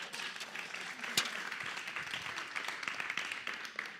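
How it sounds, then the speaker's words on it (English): An audience gives a steady round of applause, a fairly faint, even wash of many hands clapping at some distance, with one sharper clap standing out briefly. "Give him a round of applause, everybody."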